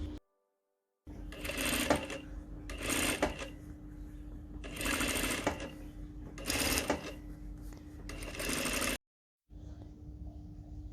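A sewing machine shirrs fabric for an off-shoulder top, running in several steady bursts of rapid stitching separated by short pauses, loud and close with no talking.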